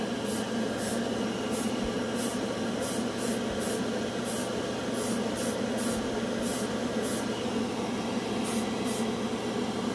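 An airbrush sprays paint onto a model spoon for a burned metal effect, a continuous close hiss of air with short, regular bursts that rise and fall as the trigger is worked.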